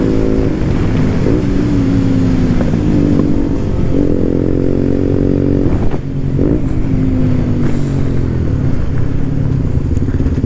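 A KTM Duke motorcycle engine running loud and close throughout, revving up and down as it rides, with a brief dip in throttle midway.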